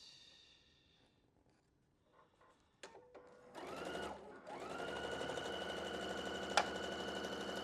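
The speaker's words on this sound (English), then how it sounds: "Let's make sure this sews together right." A sewing machine runs steadily as a quilt block is stitched together, starting after a few quiet handling noises and settling into a continuous fast mechanical whir close by.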